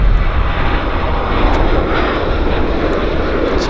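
A departing airliner at Vancouver Airport roars loudly and steadily throughout, a dense broadband engine rumble with no pause or talk.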